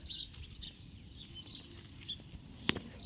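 Faint morning bird chirps and calls scattered over a steady background hiss, with one brief sharper call near the end.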